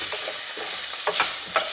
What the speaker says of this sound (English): Warm that through and give that a mix.